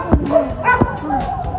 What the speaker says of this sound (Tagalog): Ay, dalawang aso.